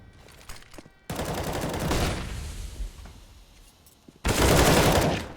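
Automatic gunfire in a Counter-Strike: Global Offensive tournament match, Ninjas in Pyjamas against BIG at Hellcase Cup 6, comes in two loud sustained bursts with quieter in-game sounds between them.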